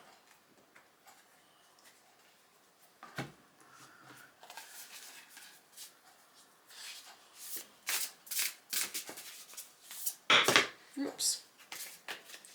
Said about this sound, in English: Let's get the other deck rolling.